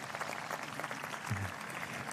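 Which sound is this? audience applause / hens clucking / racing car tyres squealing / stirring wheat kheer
audience applause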